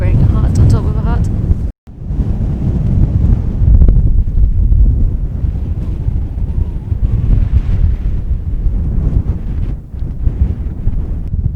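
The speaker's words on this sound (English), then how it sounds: "It's gotten so cold and windy" Strong, cold wind roars across the microphone on the exposed shoulder of Schiehallion in the Scottish Highlands, a loud continuous buffeting rumble with a brief drop near the start.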